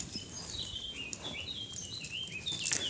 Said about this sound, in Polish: Słyszycie, jak ptaszki śpiewają?